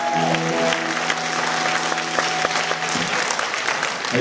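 A concert audience applauds a bassist with dense, steady clapping under a faint sustained musical tone, with no talk.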